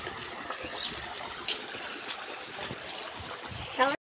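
A small waterfall stream at Namagiripettai near Rasipuram, with steady close trickling and gurgling water running throughout and a brief louder splash near the end.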